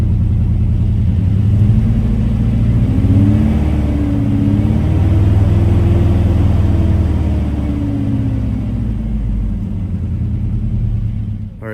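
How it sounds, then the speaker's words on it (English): Chevy S10 engine idling roughly after the throttle is released, suspected of a fuel pump or injector fault; a loud, close, low rumbling idle that wavers and surges unevenly as if struggling to stay running. "it almost seems like it doesn't want to stay running"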